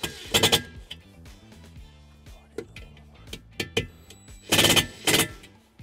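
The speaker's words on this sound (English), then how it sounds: "We're just gonna use our provided self-tapping screw in a 1/4-inch socket, and we're gonna ground it right here on this frame." Power tool with a 1/4-inch socket driving a self-tapping screw into the frame of a 2021-2022 Tesla Model Y, in short loud whirring bursts separated by pauses, close by.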